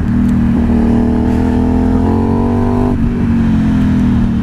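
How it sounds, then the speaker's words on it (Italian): Steady, loud engine drone of an Aprilia Dorsoduro 750 motorcycle fitted with a dB killer and a clean air filter, ridden along winding roads, holding a constant pitch with a brief throttle change midway. "La moto comunque tra DB killer, filtro dell'aria pulito, sembra veramente più piena."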